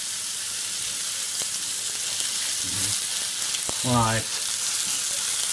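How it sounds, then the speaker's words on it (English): A steak sizzles in a hot frying pan with a continuous, close hiss of frying, broken by a couple of brief clinks. A single short word is spoken partway through. "you can hear my pan is starting to sizzle away beautifully. I'm now going to put in the steak."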